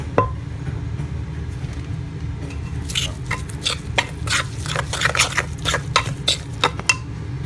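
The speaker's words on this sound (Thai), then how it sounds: "ก็คนเครื่องแกงนะครับเข้ากัน" Curry paste is stirred in a pot with a metal utensil, giving a run of scraping, clinking strokes against the pot over a low background hum, sparse at first and then quickening.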